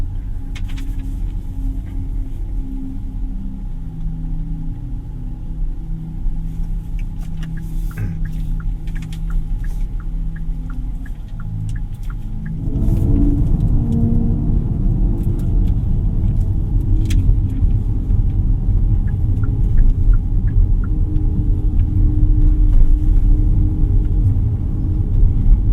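A Hyundai IONIQ 6 GLS electric car drives along the road with a steady low rumble of tyres and motion, then accelerates partway through, the drone growing louder and fuller while the cabin stays free of talk.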